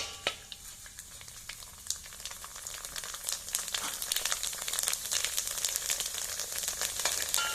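Rice frying in a pan with popped mustard seeds for a Malayalam pathila thoran, a steady crackling sizzle with dense sharp pops that grows busier and louder toward the end.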